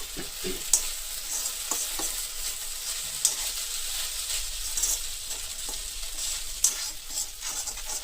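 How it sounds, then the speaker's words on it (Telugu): Vermicelli (semiya) fries in a pan, giving a soft continuous sizzle broken by occasional scraping and clicking stirs at close range, with no voices. "ఇది ఒక 2 నిమిషాలు ఇలాగా మనం వేయించేసుకోవాలి"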